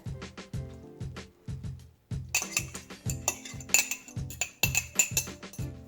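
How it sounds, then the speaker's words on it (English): Three eggs being beaten in a bowl for meatloaf, a fork or whisk clinking steadily against the dish in a quick repeating rhythm, close and clear with no talk. "Beat the eggs. Beat the eggs."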